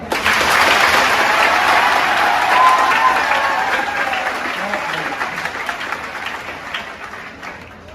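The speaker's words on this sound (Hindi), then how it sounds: "तालियां जोरदार बजाओ।" Loud, dense applause from a crowd, sustained throughout and gradually easing off toward the end.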